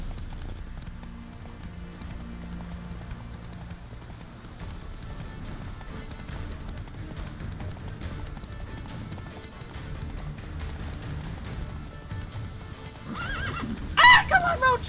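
A horse from The Witcher 3 gallops in a race with steady clip-clop hoofbeats, ending in a sharp, loud neigh near the close.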